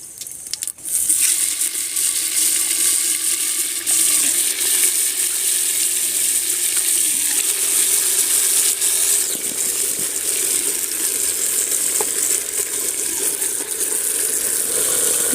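Steady loud sizzling of marinated mutton frying in a pot, a continuous hiss with occasional clinks and stirring sounds.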